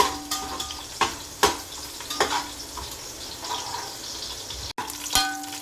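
Green chillies and curry leaves sauté in a little oil for thin poha chevdo, a soft continuous sizzle broken by several sharp scrapes and clinks of a spoon stirring the pan.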